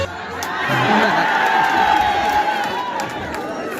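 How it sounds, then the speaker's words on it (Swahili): A large crowd at a public gathering in Laikipia, Kenya, cheers and whoops for Aunt Jane Kĩhara, a loud, steady roar of shouts and scattered clapping that rises and holds. "Wapi makofi ya Aunt Jane Kĩhara?"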